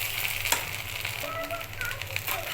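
Garlic paste fries in a pan with a steady sizzle and occasional light crackles and pops, fairly close and continuous.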